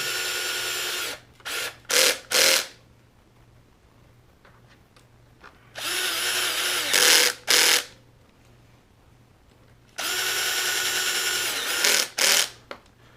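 A power drill with its clutch set to 2 tightens bolts on an X-Maxx RC truck, whirring in three clusters of short, loud bursts separated by quiet pauses, with no talking.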